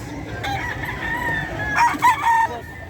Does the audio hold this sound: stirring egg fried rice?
no